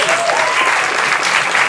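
An audience at a talk on Black culture and historical erasure breaks into loud, close applause, a brief dense patter of many hands with faint voices underneath.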